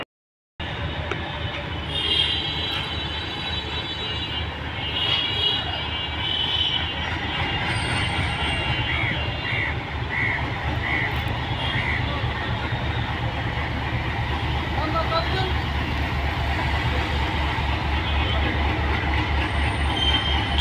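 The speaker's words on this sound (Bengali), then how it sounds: "ছয় 6547 সিরিজের লোকোমোটিভ। এগুলো সম্ভবত ইন্ডিয়ান লোকোমোটিভ।" The Panchagarh Express, hauled by a 6547-series locomotive, rolls past in a steady loud rumble of rail cars, with wheel squeal and rhythmic clatter running throughout.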